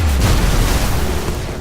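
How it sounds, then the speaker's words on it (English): A grenade blast in the Destiny video game: a loud, sustained boom with a deep rumbling low end that holds steady for over a second before easing off slightly. "Nice grenades, by the way."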